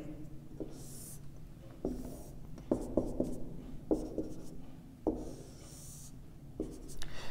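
Pen scratching on paper while sketching a function graph by hand: short bursts of strokes separated by brief pauses, close and quiet, with no talking.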